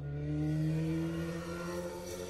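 A vehicle engine roars past at close range, its pitch sliding downward as it goes by, fairly loud and steady.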